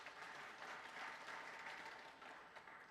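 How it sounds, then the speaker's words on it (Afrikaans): A church congregation at a Sunday service in Rustenburg applauds in a steady, even clatter of many hands, soft and somewhat distant, with no talking. "Lekker aan 'n klap vir Fyn Productions."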